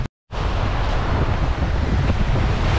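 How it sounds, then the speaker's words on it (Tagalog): Rough, high sea surf breaking on the shore near a beach camp, a loud, continuous roar of waves mixed with heavy wind buffeting the microphone, starting after a brief silent gap. "Ayan mga bay, taas na naman ang dagat."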